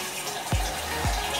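RO water poured into a pot to wash rice while cooking vada bhaat, a short splashing pour with two brief gulping splashes at an even pace, close by and alone.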